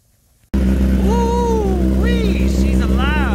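A 2021 Kawasaki ZX10R motorcycle with a Brock's Performance exhaust roars to life and runs with a deep, throaty exhaust rumble, blipping the throttle a couple of times, loud and close.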